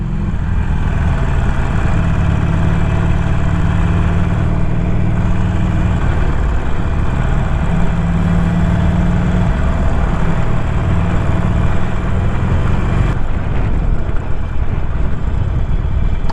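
Harley-Davidson Forty-Eight motorcycle being ridden on a road, its engine a loud, steady low rumble throughout with slight shifts in pitch.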